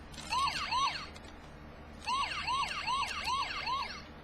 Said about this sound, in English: you got sirens, because he's actually a police vehicle